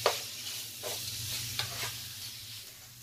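Bacon fries in a pan, giving a soft steady sizzle broken by a few scraping stirs, close and fairly quiet, with no talking.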